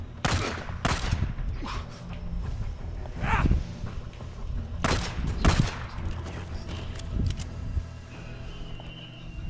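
Gunfire in the Days Gone video game, a run of sharp shots and bursts scattered over nine seconds against a rumbling game background, with some irregular clattering between shots.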